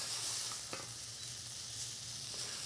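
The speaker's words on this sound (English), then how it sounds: "So we're just going to saute those off till they're a little soft." Food sautés in a pan until soft, giving a steady, soft sizzle and frying hiss with an occasional faint stirring clink, heard alone at close range.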